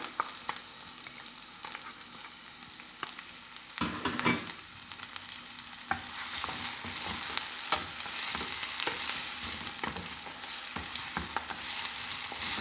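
Chopped onion frying in oil in a pan, a continuous close hiss and sizzle with repeated scraping stirs and small crackling pops, no voices.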